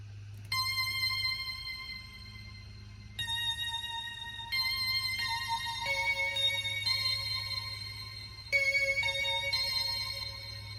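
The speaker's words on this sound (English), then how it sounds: "But Dreamy Bells sounds like this." Dreamy Bells synthesizer lead from a song, bright bell-like tones stepping through a melody over a low sustained bass drone, clear and alone.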